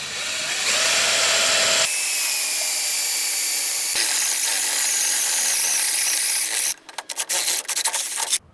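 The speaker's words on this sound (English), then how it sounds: "I'm going to drill a 3/8 hole through it" A power drill bores a 3/8-inch hole through a boat step being mounted on a trailer, giving a loud, steady grinding whine for about seven seconds before it stutters and cuts out.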